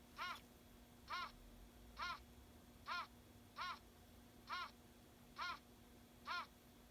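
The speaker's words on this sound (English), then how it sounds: "this is a great gray owl. Kind of sounds like a little yappy dog, right?" A great gray owl's recorded call, eight evenly spaced hoots repeating about once per second, moderately loud over a steady low hum, with a yappy dog-like quality.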